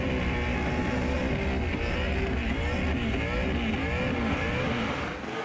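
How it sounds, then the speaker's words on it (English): A burnout car at a burnout competition roars loudly with the tyres gone, the driver pumping the throttle so the engine rises and falls in rapid, rough pulses amid a dense, continuous crowd-like wash. "He's gone from the full consistent RPM to now that pumping throttle sound, which tells us the tyres are off."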